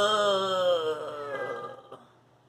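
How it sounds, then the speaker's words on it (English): A hungry house cat gives one long, drawn-out yowling meow for food, loud and close at first, then sliding downward and fading away after about two seconds. "And there's the cats."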